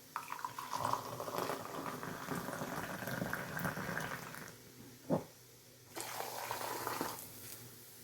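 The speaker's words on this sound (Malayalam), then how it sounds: "ചായയും കൂടി ഒന്ന് തിളച്ചാൽ ഞാൻ അതൊന്ന് ഊറ്റി എല്ലാം എടുക്കണം" Tea bubbling at a boil in a pot, a close continuous rolling burble with a brief clatter midway and a short lull before the boiling resumes.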